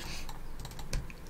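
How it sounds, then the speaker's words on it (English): A single key pressed on a computer keyboard, a soft, close click over quiet room noise, with a couple of fainter taps around it. "when I press one on my keyboard"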